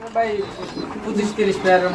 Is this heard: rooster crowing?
no